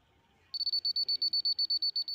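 A laser level's hand receiver gives a steady run of rapid, evenly spaced high-pitched beeps that start abruptly and repeat close by and clearly, with no talking.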